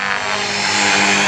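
A 450 Pro TT radio-controlled helicopter flies close by, its rotor and motor giving a loud, steady buzzing whine with no pauses and no talk.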